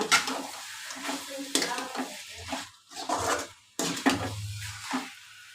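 Curry leaves frying in a hot pan while a spoon stirs them, crackling sizzle with repeated scraping and clinking strokes against the metal, close and loud.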